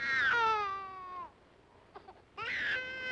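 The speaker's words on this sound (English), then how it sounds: "Well, the baby's crying" A high, wailing cry rises and falls twice, loud and close, with a short quiet gap and a few faint sounds between the cries.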